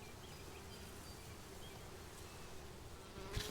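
Honeybees buzzing inside an opened beehive: a steady, faint, dense drone of many bees with no talk and a small knock near the end.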